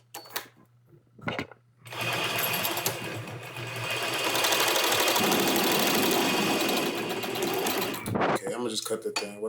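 A sewing machine stitches zigzags with black bobbin thread, running in a loud continuous whir for about six seconds after brief talk, with a few short bursts before and a stop near the end.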